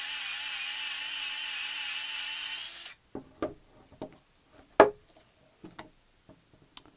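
A Lee Power Quick Trim cutting brass cartridge cases gives a loud, steady motorized whirring for about three seconds, then stops, followed by scattered clicks and light taps of handling and a sharp knock.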